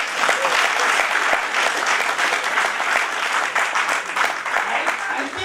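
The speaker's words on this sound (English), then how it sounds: "Why don't you clap again?" A crowd at a Caritas fiftieth-anniversary gathering claps again after a successor is announced, close, dense hand-clapping sustained at an even level throughout.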